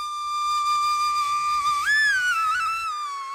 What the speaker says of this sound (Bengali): আশেপাশে নানান পাখির ডাক